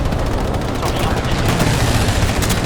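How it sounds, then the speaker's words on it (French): Sustained machine gun fire from the World War II shooter Hell Let Loose, a dense, loud, continuous rattle of rapid shots with booming low rumble underneath, filling the whole stretch. "Il mitraille le canon là."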